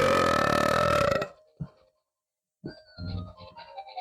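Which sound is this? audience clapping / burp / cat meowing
burp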